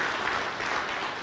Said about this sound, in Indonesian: Berikan tepuk tangan ya mari.